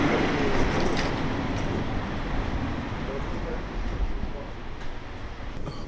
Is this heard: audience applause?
no